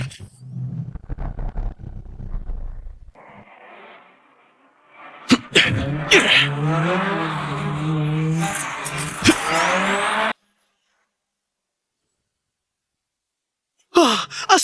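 A race car drifting hard through a corner, engine howling and tires squealing in a loud sustained burst after a quieter lead-in, then cutting to silence before another short burst of noise at the end.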